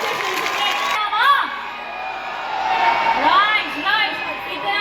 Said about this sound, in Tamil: ஸோ ஒரு பலத்த கரகோஷம் சிட்டி மக்களே, எங்க வேர்ல்ட் கிளாஸ் மியூசிஷியன்ஸ் கேட்கலாமா?